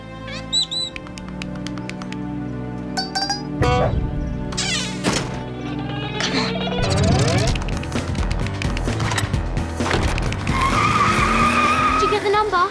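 A car speeds away with screeching, skidding tires, the sweeping squeal loud and close over a busy cartoon soundtrack, building and rising in pitch toward the end.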